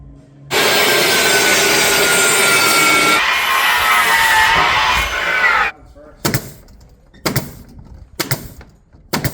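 A power saw cuts through wood to make strips for a barn door installation, a loud, steady rasping whine lasting about five seconds, followed by several shorter knocks and clatters at close range.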